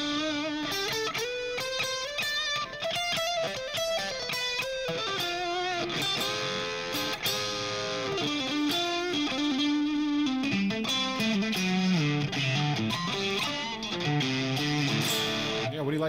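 Electric guitar played through a Helix amp simulation of a Mesa LoneStar amplifier with reverb added, giving a steady, sustained run of chords and melodic lines, moderately driven with a chorus-like shimmer, continuous and upfront throughout.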